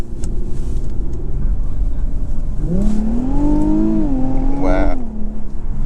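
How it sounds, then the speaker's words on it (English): 2021 Infiniti Q50 Red Sport 400 with a 7-speed automatic, heard from inside: steady cabin road roar, then the engine note climbs sharply under acceleration and dips at a quick gear change, with a short exclamation from a man. "And that 7-speed just shifts so fast"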